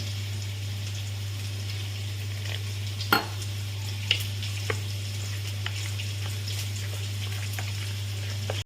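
Potatoes fry in a pan for a Bengali thor and prawn dish, giving a steady soft sizzle with a few sharp clicks of a spoon stirring against the pan, heard close and without any talk.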